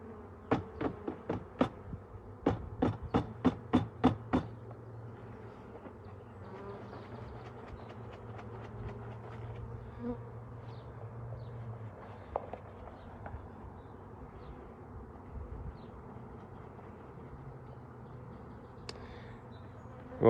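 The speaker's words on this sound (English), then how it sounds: "Wow, we have quite a bit of bee activity going on." A steady, dense hum of many bees buzzing nearby around their hive, with a burst of sharp rhythmic clicks early on.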